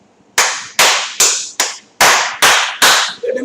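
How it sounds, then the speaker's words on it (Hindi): A teacher in a classroom claps hands sharply seven times in a brisk, fairly even rhythm, each clap loud and close with a short ringing decay, and no talking between them. "इसलिए जान के तालियां बजाता हूँ"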